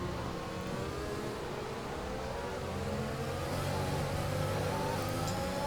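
Formula 1 race car engines at a lap-one start in Bahrain in the game F1 2021, a continuous high whine of several cars revving and accelerating together, steady and loud with rising pitch sweeps.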